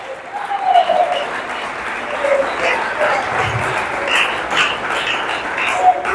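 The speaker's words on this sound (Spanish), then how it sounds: "Denle un aplauso, déselo con gana" A church congregation claps steadily and loudly for several seconds, dense applause with a few voices calling out over it.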